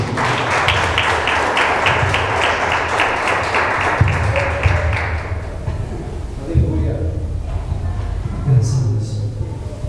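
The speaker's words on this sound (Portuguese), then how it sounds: "As palmas ao Senhor." A church congregation claps steadily and rhythmically for several seconds, then the clapping fades into scattered thumps and murmurs while a voice speaks over it.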